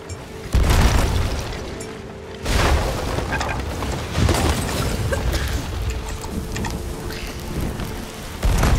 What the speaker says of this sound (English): Get ready on those cannons.